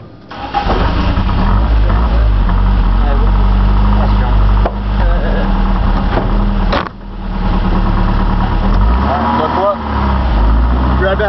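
A Sunbeam Alpine fitted with an Oldsmobile 455 V8 idles loudly and close by with a deep, steady rumble that dips briefly twice, under voices.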